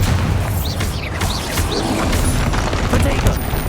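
Bombarda blast spells exploding in Hogwarts Legacy combat, a dense, loud, continuous barrage of booming bursts and crashes with voices mixed in throughout.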